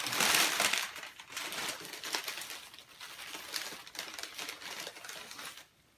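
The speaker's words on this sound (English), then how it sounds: "there's a good amount of packing paper here, which is always nice to see. Just going to start removing that" Packing paper being pulled out of a shipping box of vintage 1980s GoBots collectibles: close crinkling and crumpling rustles in irregular bursts that fade out at the end.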